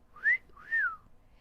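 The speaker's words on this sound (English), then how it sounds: "Holmes whistled." A person whistles two rising-and-falling notes in an audiobook of a Sherlock Holmes story, clear and close against a quiet background with no talking.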